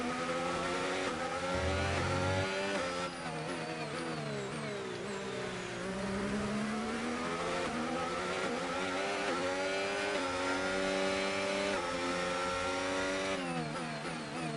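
An F1 race car in the F1 25 video game accelerating hard, its high engine whine climbing through rising pitch sweeps with quick gear shifts, loud and continuous for the whole stretch.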